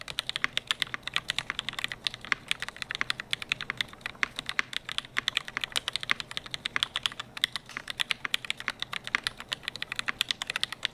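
Fast, steady typing on a custom-built mechanical keyboard, close up, a continuous clatter of crisp keystrokes with no one speaking.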